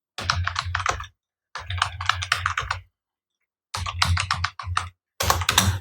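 Typing on a computer keyboard in bursts of rapid, close key clicks separated by short pauses, with no talking.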